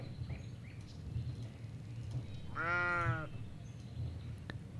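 A sheep in World of Warcraft Classic gives a single clear, wavering bleat lasting about half a second over a steady low background hum.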